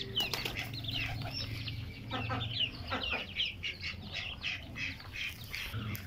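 Duck babies cheep in a dense, overlapping chorus of high, rapid peeps close by, with a few chirps a little louder than the rest.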